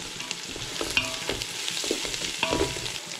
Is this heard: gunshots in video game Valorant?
no